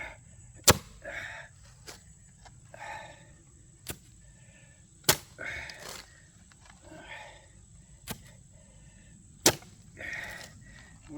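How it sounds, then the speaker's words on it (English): A post hole digger strikes rocky clay soil again and again, each blow a sharp, close thud or clank, with scraping and crunching of earth between strikes and a faint steady hum underneath. "When I'm using my post hole digger, I try to keep the shovels spread apart, drive it into the ground and squeeze them together and twist."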